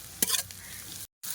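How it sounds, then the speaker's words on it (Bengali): Tomatoes and onions stirred in a frying pan, a soft scraping stir over a low steady sizzle, with a short burst of louder spoon-on-pan noise near the start before a brief cut to silence. "টমাগুলো দিয়ে একটু নাড়াচাড়া করে নেবো"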